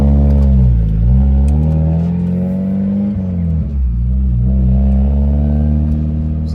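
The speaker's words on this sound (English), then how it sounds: "Give them a little rev." A Mazda Miata fitted with drift knuckles idles loudly nearby, its deep engine note swelling and dropping through a few gentle revs.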